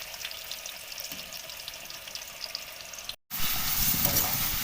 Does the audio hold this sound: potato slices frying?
yes